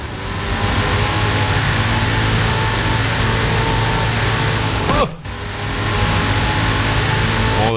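A Hennessey Venom accelerating in Forza Horizon 5, a loud steady engine roar that briefly drops out near the end before resuming.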